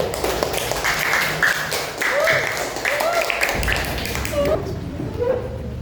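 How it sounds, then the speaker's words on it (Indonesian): Pupils in a classroom clap for a group of classmates, a few seconds of scattered, uneven hand claps with voices and shuffling mixed in before the clapping fades. "tepuk tangan untuk kelompok 3"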